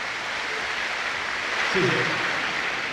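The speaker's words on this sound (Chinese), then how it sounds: "掌声不够， 再来一次。" A studio audience at a stage variety show with a singer and a host claps in a steady, dense wash that lasts throughout. A voice speaks briefly over the clapping.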